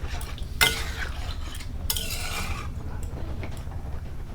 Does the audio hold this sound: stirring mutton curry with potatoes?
yes